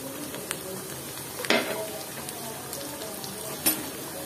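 Prawns frying with onion in a pan for a bitter gourd and potato curry, giving a steady soft sizzle with a few sharper pops and stirring knocks, close and moderately quiet, with no talk over it.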